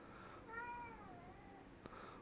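A house cat lets out a single clear, drawn-out meow, fairly faint and close, in an otherwise quiet room, followed by a brief click.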